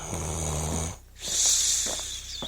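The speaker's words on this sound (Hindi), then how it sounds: "ये बाबा जी इतनी तेज धूप में भी कितने आनंद से खर्राटे मार रहे हैं।" An old man asleep outdoors in hot midday sun snores loudly, a deep rattling inhale followed after a short pause by a breathy, snorting exhale.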